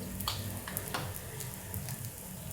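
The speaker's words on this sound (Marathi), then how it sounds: "थोडं मी दोन मिनटं अजून परतून घेते" Dried bombil (Bombay duck) sizzles and crackles as it is sautéed in a pan for chutney, a steady close frying hiss with a few sharp spatters and stirring scrapes.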